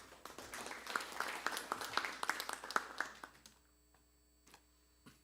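Audience applause at a Korean political forum debating electoral law reform, a steady patter of many hands that fades out after about three seconds into near silence, with a few stray claps afterward.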